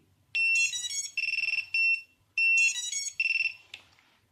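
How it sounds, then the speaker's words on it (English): A Drone 220s Wizard beeps a bright electronic tune twice when its battery is connected, a rapid sequence of tones and pulsed chirps repeating after a short gap, nearby and loud. "you're going to connect the battery and you're going to hear the beep"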